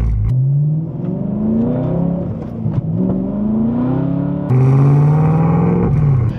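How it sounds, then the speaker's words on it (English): A BMW E92 M3 with its muffler cut off, running a straight-piped exhaust, revs loudly and close, its raspy engine note climbing and falling through several blips before a sharper, louder rev near the end. "let's test out the old exhaust, which essentially they cut off the muffler"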